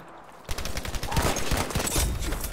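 MG34 machine gun in Battlefield V rattling off a rapid, continuous burst of close, loud automatic fire after a short quiet lead-in.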